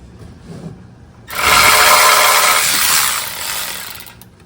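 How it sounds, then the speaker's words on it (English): A ratchet works loose the oil drain plug on a 2021 Honda Ridgeline during an oil change, a fast, buzzing burst of ratcheting about two seconds long, close and loud, after quieter handling noises. "now I'm gonna get my ratchet on there"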